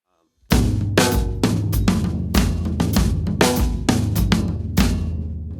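A full drum-kit groove from the worship song Open the Eyes of My Heart, steady kick and hi-hat with loud snare accents pulled out at set points, close and punchy, no voices.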